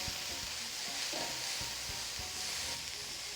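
Vegetables sizzle in hot oil over medium-high to high heat for pad Thai spring rolls, a steady loud hiss with soft scraping knocks as they are stirred through the pan.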